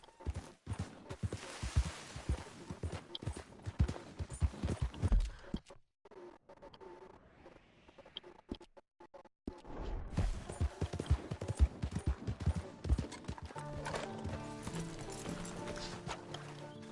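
Hooves clip-clop at a steady, rhythmic pace from a horse in the video game Red Dead Redemption 2. The hoofbeats drop out briefly partway through and then resume, with no whinny clearly standing out.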